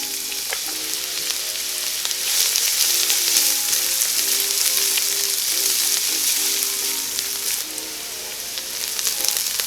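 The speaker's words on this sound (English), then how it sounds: "Over medium-high heat, I'm putting some olive oil. And I'm gonna sweat the onions first." Onions sweating in olive oil in a pan over medium-high heat, a steady close sizzle and crackle with occasional stirring, no voices.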